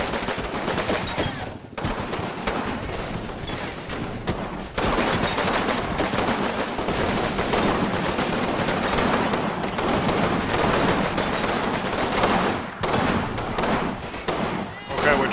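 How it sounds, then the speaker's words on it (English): Sniper shots and sustained gunfire in the wargame Combat Mission, dense overlapping bursts of rifle and machine-gun fire running almost continuously, loud and close, with brief lulls and a voice talking over the battle. "We noticed that we are taking sniper fire from the King's Crown, actually."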